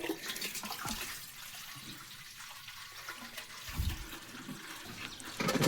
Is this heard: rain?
no